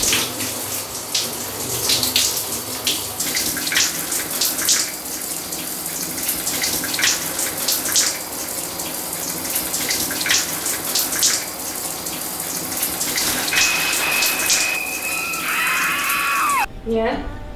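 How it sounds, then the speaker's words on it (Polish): Shower tap turned on and water running steadily into a bathtub, a close, continuous splashing rush that lasts the whole stretch before being cut off near the end. "Przesuwasz zasłonkę i odkręcasz wodę."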